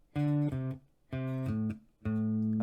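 Bass guitar riff in D for a Rockschool grade 3 blues piece, three short phrases of clean low notes separated by pauses, close and fairly quiet with no voices.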